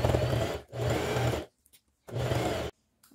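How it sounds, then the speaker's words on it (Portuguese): Sewing machine stitching a seam around a fabric handbag with lining, three close, buzzing bursts of steady motor whir separated by short quiet pauses. "Agora a gente vai passar uma costura em toda a volta, deixando a abertura aqui, ó, no forrinho pra gente desvirar"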